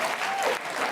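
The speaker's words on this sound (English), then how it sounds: "That gets applause?" Studio audience applause, a brief burst of dense clapping from a crowd, loud and even for under a second.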